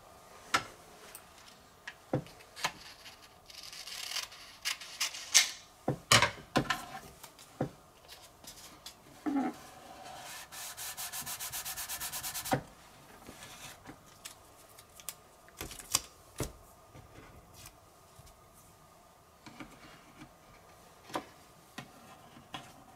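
A vinyl decal being cut out by hand, heard as sparse close clicks and scrapes with a longer steady cutting stretch in the middle and quiet gaps between.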